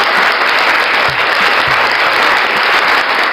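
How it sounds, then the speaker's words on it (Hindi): Loud, steady applause fills the whole stretch, greeting viewers at the opening of a Hindu devotional Thursday fast story session, dense and continuous with no voices over it. "आप सभी का हमारे चैनल पर तालियों के साथ स्वागत करती हूँ मैं आप सभी का।"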